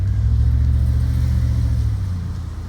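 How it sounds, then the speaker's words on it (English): A long-bed pickup truck doing a wet burnout gives a loud, steady low engine rumble that holds for about two seconds and then eases slightly, with no voices. "Well, a wet burnout."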